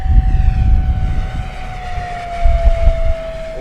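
An FMS P-47 Razorback electric RC warplane flying inverted low along a runway, its motor giving a loud, steady whine that slowly falls in pitch as it passes, with wind rumble underneath.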